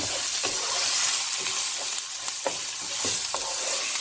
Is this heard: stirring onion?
yes